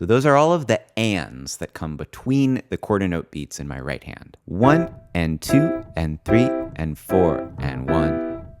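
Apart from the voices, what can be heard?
No distinct noise like a dog, phone or traffic.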